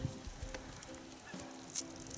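Faint honking of geese comes and goes in a quiet outdoor setting in southern Ukraine, short nasal calls scattered over a low background hiss.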